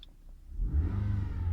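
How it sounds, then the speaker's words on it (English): A car engine revs up as gas is given, a low rumble that rises sharply after a quiet moment and holds steady, close and alone. "You can see that the engine speed is going up as I'm giving it gas."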